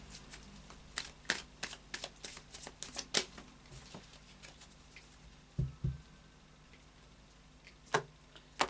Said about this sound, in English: Another couple of shuffles.